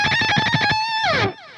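A distorted electric guitar lick with rapid repeated chromatic picking, then a sustained note that dives down in a cartoonish slide, like a Looney Tunes effect; loud and close with no voices.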